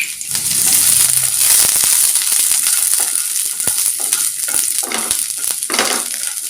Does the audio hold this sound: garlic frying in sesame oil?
yes